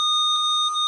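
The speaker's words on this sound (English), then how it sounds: "Please leave a message after the beep." A steady electronic answering machine beep, a pure sustained tone held for about a second, clean and alone.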